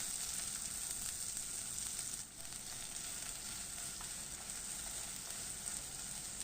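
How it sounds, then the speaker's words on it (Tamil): Sliced onion sautéing in oil with cloves and cumin for a pea kurma, a steady, faint, even sizzle that continues alone with no talk. "இதில் ஒரு பெரிய வெங்காயம் நான் நீல வாக்கில் கட் பண்ணியிருக்கேன், அதையும் சேர்த்து வதக்கி விட்டுக்கலாம்."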